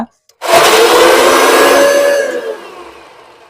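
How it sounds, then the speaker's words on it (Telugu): A mixie grinder grinds bread pieces, a loud steady motor whir starting abruptly after a brief quiet moment, holding for about two seconds, then winding down as the blades slow. "ఇంకా ఆ బ్రెడ్ ముక్కల్ని మనం మిక్సీలో వేసుకొని గ్రైండ్ చేసుకోవాలన్నమాట"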